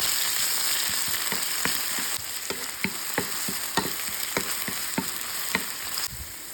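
Onions sizzle and fry in hot oil in a pan, with a steady bed of crackling and a string of sharp clicks and pops about every half second. The sound is close and continuous, and no one speaks.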